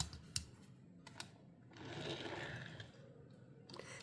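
A Hot Wheels Nissan Leaf Nismo RC_02 die-cast toy car rolls across a surface, giving a soft, steady whirring rumble for about a second and a half between a few sharp clicks of handling.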